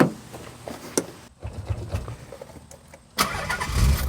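A Nissan 300ZX with a faulty starter relay, jumped at the connector, cranks with uneven clicks and whirs, goes briefly quiet, then catches and settles into a loud, steady idle near the microphone.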